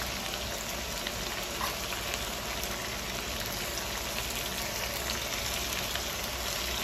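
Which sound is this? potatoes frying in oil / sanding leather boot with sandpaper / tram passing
potatoes frying in oil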